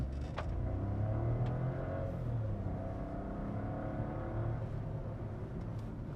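A Skoda Kushaq car pulls away on a test drive, its engine a steady low rumble with road and tyre noise running continuously throughout, fairly close and without speech.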